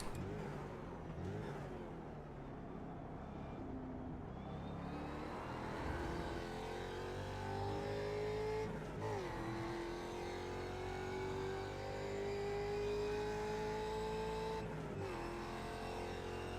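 Ford Mustang FR500s race car engine in the iRacing simulator, a continuous droning roar that rises in pitch through each gear, with quick drops at shifts, steady and close throughout with no talk over it.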